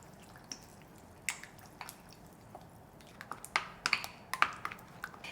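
Soft wet squishing and light clicks of utensil on bowl while mixing water and soy sauce, irregular and gentle, growing busier toward the end.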